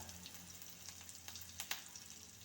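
Onions dropped into hot oil with popped mustard seeds sizzle and crackle softly, with a steady frying hiss and a few sharper pops near the end, faint and alone.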